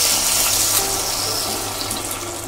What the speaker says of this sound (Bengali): এতে পরিমাণ মতন জল অ্যাড করব।